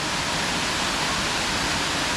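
Rutledge Falls in Tullahoma, Tennessee, a waterfall rushing with a steady, loud, broadband roar that holds constant throughout, close by with no voices.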